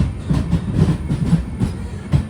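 An Amrit Bharat Express sleeper train runs with a steady rhythmic clickety-clack of wheels over rail joints, close and moderately loud, over a continuous low rumble.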